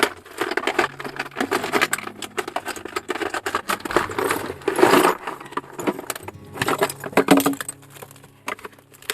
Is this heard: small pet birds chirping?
no